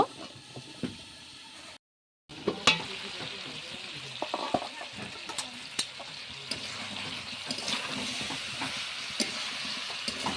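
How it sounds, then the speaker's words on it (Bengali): Jackfruit and potato curry sautés in a covered pan with a little added water. It gives a continuous moist sizzle with scattered clicks and spoon scrapes, and it drops out for a brief silent gap near the start. "এখন ঢাকা দিয়ে ভালোভাবে কষিয়ে নেব"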